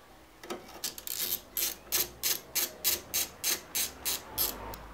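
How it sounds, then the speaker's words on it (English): A T20 Torx bit turns out cover screws on a VW Golf MK7 fuel filter housing, giving a run of about a dozen short, evenly spaced ratcheting clicks, close and fairly quiet, with no voices. "I've got a T20 Torx bit, and I'm just going to loosen off the 5 screws on the top of this cover."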